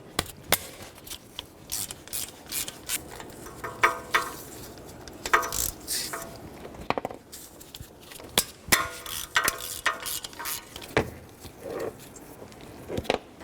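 A ratchet wrench with a 12mm socket removes the exhaust manifold stud nuts on a 2006-2012 Toyota, giving scattered clicks, knocks and short bursts of ratcheting over a quiet background.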